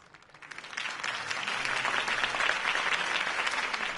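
Crowd applause after a campaign speech in the video game Batman: The Telltale Series, swelling from quiet to a steady, fairly distant roar of clapping.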